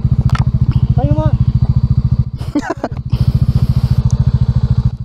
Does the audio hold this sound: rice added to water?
no